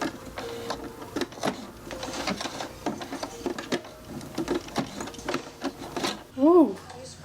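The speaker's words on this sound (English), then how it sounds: "I'm using a hand crank because like it might mess up my machine if I don't." A hand-crank sewing machine with a heavy 110/18 needle stitches through a shoe corset, making a run of irregular mechanical clicks and thumps close by, with a brief voice near the end.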